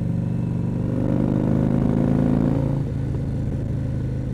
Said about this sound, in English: you guys can kind of hear the difference in exhaust note